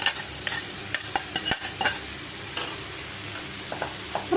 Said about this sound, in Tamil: வாழைப்பூ சேர்த்துட்டு ஒரு 2 நிமிஷம் வதக்கி விட்டுக்கலாம்.